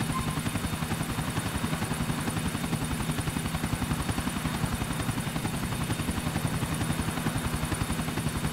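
A helicopter's rotor chops steadily and continuously at close range in the video game Grand Theft Auto IV, a loud rhythmic thudding over an engine whine, with no voices.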